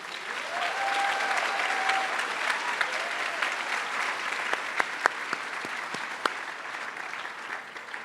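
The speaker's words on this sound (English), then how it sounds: "You may now applause." Steady applause from a commencement audience at Massbay college fills the hall, a dense continuous wash of clapping with a few sharper claps near the end, fairly distant and without speech.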